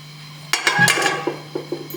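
A metal cooking pot is handled as two spoons of oil go in, giving a sharp clank followed by several lighter metallic clinks and taps that fade, close by, with no voices.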